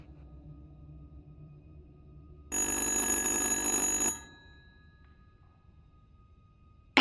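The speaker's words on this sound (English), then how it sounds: "Answer the goddamn phone!" A telephone rings in the horror video game Little Hope, one loud, continuous electronic bell burst of about a second and a half that cuts off abruptly and leaves a low rumbling ambience.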